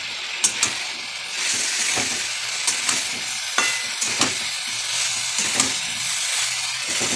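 Soybean pieces fry in a hot pan, giving a steady hiss and sizzle broken by sharp scraping clicks as a spatula stirs them every second or so. The sound is close and moderately loud, with no talking.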